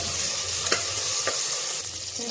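Chopped tomatoes sizzle in a pan with fried onions as they cook for ghugni, with a steady hiss and a few sharp scrapes from stirring.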